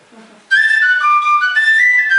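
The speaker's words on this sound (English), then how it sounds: "It's the top note you can comfortably play on a tin whistle" A tin whistle sounds a clear, sustained high note, starting abruptly after a brief murmur and holding bright and steady with slight pitch wavering to the end.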